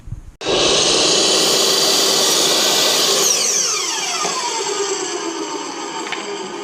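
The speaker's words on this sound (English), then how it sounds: "So I have to cut it so it ends on the center of the stud in the ceiling." A power saw cuts a cedar tongue-and-groove ceiling board inside a school bus conversion. It starts abruptly with a loud, steady high whine, then its pitch sags and drops partway through as the blade winds down.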